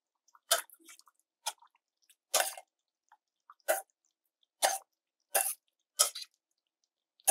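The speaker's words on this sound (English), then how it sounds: "We are ready to add the clams in now." Clams are dropped one at a time into a pot of New England clam chowder, giving a series of short, wet splashy plops at irregular intervals, close and fairly quiet, with near silence between them.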